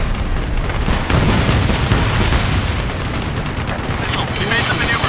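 Aerial combat gunfire in the video game Ace Combat Assault Horizon thunders as a dense, continuous roar of rapid shots and booms. It is loud and unbroken throughout, with no clear gaps between bursts.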